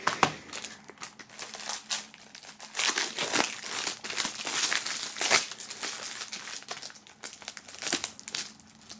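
Tough plastic wrapping film on a surprise package from a music label being handled, a steady run of loud, close crinkling and crackling with brief tearing bursts, no talking.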